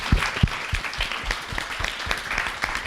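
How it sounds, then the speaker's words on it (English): An audience at a literary awards salon applauds, a steady patter of clapping from many hands with a few sharper nearby claps, moderately loud. "can we just give a round of applause for them once more?"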